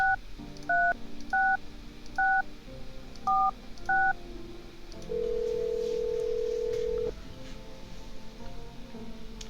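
Phone dialing tones in the horror game No I'm Not Human: a series of short, evenly spaced keypad beeps, then one sustained tone for about two seconds, clear over a soft low background.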